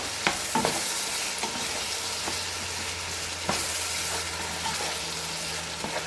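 Condiments with turmeric fry in a pan for a home-style poulet DG, a steady broadband sizzle with several sharp spatula scrapes and knocks spread across the clip, close and fairly loud with no voices.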